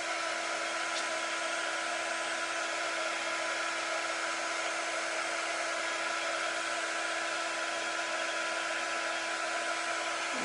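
A hair dryer runs steadily on shimmer paste over a craft transfer, a constant close airy whir with a faint tonal hum, alone and without talk for the whole stretch.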